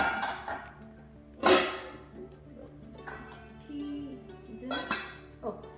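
Several sharp metallic clinks of stainless steel pots and utensils knocking together, scattered irregularly with soft handling noises in between; no voices.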